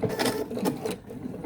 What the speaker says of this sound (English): I'm going to sew across the end just to catch those extra pieces